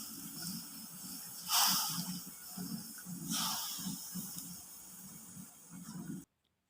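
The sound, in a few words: chicken broth (yakhni) coming to a boil in a pot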